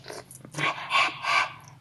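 A dog growls in a few low, rumbling bursts, close and fairly loud, in under two seconds.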